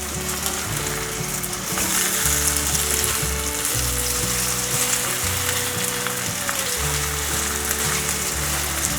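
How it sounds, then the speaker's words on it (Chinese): Pumpkin and potato patties pan-frying in oil, a steady close sizzle running the whole time with no talk, the shallow-fried patties crackling evenly as they brown. "再继续让它煎。"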